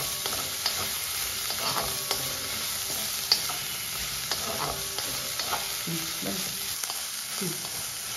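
Onions sautéing in oil in a pan for a Dharwad-style ghee poha snack, a steady soft sizzle broken by repeated scrapes and clinks of stirring, close and moderately quiet with no talk.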